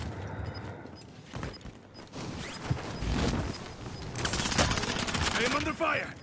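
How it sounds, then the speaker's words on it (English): Video game gunfire, rapid automatic bursts and scattered shots crackling through the mix, moderately loud, with a player talking over it. "I am under fire!"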